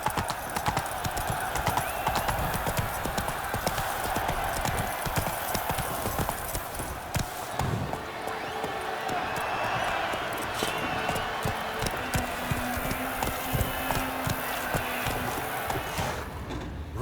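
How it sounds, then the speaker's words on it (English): Hooves of a horse galloping in The Witcher 3 video game make a steady, rapid clip-clop that continues throughout, moderately loud against a constant outdoor background, with occasional game sounds. "Run, Roach"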